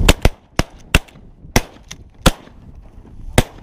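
Shotgun blasts fired at ducks during a hunt: about eight sharp, loud reports in an irregular volley over a few seconds, close to the listener with no talk between them.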